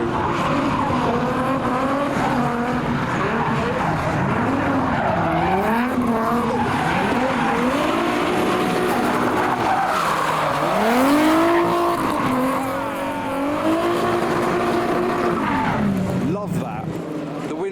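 A 2.6 litre V6 car with a welded diff racing an MX-5, revving engines rising and falling repeatedly as tyres squeal and skid through corners, loud and continuous, with voices talking underneath.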